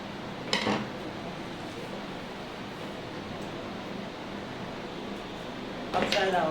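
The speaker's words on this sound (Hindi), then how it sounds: "अब मैं इसमें डाल के अब इसको चला के दिखाता" Morphy Richards Icon DLX mixer grinder running after its gears were oiled to fix a noise problem: a steady whirring motor hum at moderate level, with a few brief clinks at the start and end.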